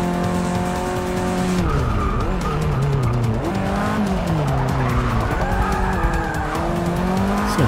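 A Renault 5 Turbo slides and skids in Forza Motorsport 6, its engine note swooping up and down under continuous loud tire squeal, with no talk over it.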